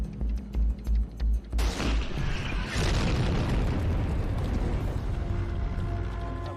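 Tank gunfire at the battle of El Alamein, where a crew opens fire on an English tank squad: a series of rhythmic thuds gives way to a heavy blast and a long, loud, rumbling roar of fire and explosions.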